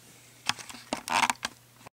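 Quick, irregular keystrokes on a computer keyboard while setting up an arcade emulator on a Mac, close by and crisp, with a short burst of clustered clicks near the middle and no voices.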